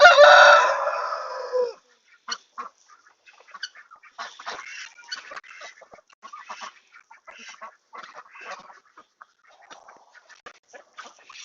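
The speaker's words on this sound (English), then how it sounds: "There's all the ducks." Farm ducks and chickens: a loud, close rooster-like crow opens, then scattered quacks, clucks and honking calls continue at moderate level.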